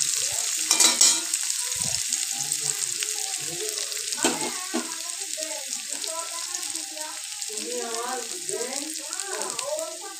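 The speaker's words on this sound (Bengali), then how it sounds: "পেঁয়াজটাকে একটু তেলের সাথে ভালো করে নেড়ে নেব" Onion stirred and fried in oil for egg korma, a continuous crackling sizzle with occasional spatula scrapes, while a person talks over it through most of the clip.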